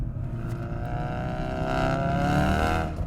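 A 380 WHP Ford Focus RS, a tuned hatchback, roars steadily under load with its engine note rising as it pulls, a loud, close drone with hints of exhaust crackle near the end.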